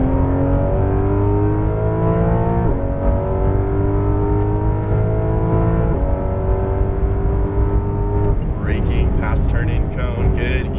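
Porsche 911 GT3 on a race track, its engine revving hard through repeated rising pulls with brief dips between gear changes, loud and close from inside the car while an instructor talks over it.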